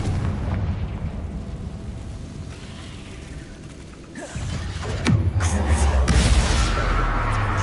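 A Confringo blasting spell exploding in Hogwarts Legacy on PS5: a sharp crack near the five-second mark, then a heavy, rumbling explosion that keeps booming under a steady wash of game noise.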